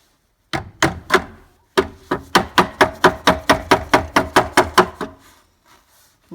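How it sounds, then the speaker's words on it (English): Hammer blows driving a shaft back into a Delta SA350K spindle sander with a broken oscillating mechanism: three sharp knocks, a pause, then a steady run of about fourteen evenly spaced, ringing strikes, loud and close. "I am now able to hammer this back in."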